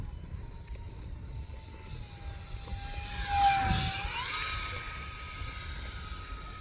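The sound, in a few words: E-flite SR-71 RC jet model flying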